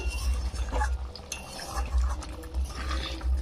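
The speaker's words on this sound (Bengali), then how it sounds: "এক চামচের মতন ঘি দিয়ে দেবো এবার একটু নেড়ে নেব" Curry being stirred in a pan with a spoonful of ghee, a steady scraping and sloshing with soft clinks of the spoon against the pan, close and continuous, with no talking.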